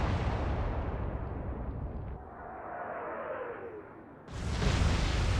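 Royal Navy ship guns firing in the naval video game Atlantic Fleet: a heavy, sustained rumbling roar with a passing whoosh, ending in a sudden loud blast.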